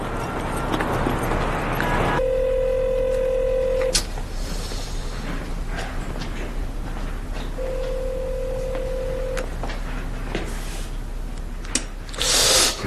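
A telephone rings in two long steady electronic tones separated by a pause, loud and close over a constant background hum, with no talking.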